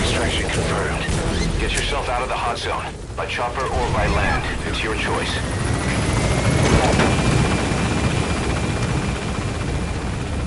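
Helicopter from Metal Gear Solid V thrumming steadily and loudly throughout, mixed with game effects and occasional voices over the rotor noise.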